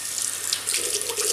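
Water running steadily from a bathroom tap into a sink during a wet shave with a double-edge razor and shaving soap, a brief close-up continuous splashing stream with no voices.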